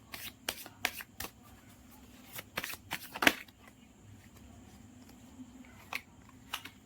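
Tarot cards being shuffled for a reading make soft, irregular riffling flicks and taps, quiet and close against a faint background.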